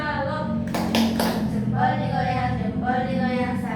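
A class doing the tepuk salut ice-breaker, a short burst of several sharp claps in a row between stretches of voices chanting along, close and clear in a small room.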